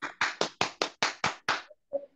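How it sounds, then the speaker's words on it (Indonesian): Applause for Ibu Khadijah at a talk: eight rapid, evenly spaced claps followed by a final one after a short pause, close and crisp with no talking. "kita beri aplaus untuk Ibu Khadijah MPD"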